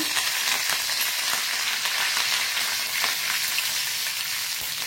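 Mustard seeds and curry leaves sizzle steadily in hot oil in a pan, a loud, continuous, close frying hiss with no break while cooking okra pulimunchi.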